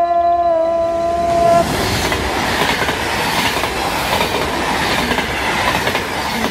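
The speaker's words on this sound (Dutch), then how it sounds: "dit wordt de laatste trein" A train passing on rails in Echt, with a loud horn blast at the start that gives way to a close, heavy rolling rumble and rattle of wheels.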